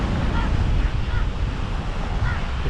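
Sea waves wash onto the shore at a harbor-type beach in Pondicherry, a steady broad surf roar with heavy low rumble and wind buffeting the microphone, soft wash swells recurring throughout.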